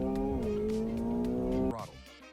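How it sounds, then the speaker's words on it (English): A car driven hard through the first corner by a Formula One driver gives a loud, steady engine drone whose pitch dips slightly partway through, then shifts abruptly and fades near the end. "As the car roared through the first corner, Yuvraj shouted"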